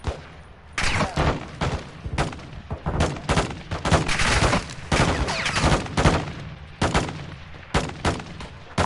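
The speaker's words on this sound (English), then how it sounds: "Weapons hot for gun run." Heavy aircraft gun-run fire in Modern Warfare 2, loud dense bursts of rapid shots and booming impacts repeating across the whole stretch, nearly continuous with brief gaps.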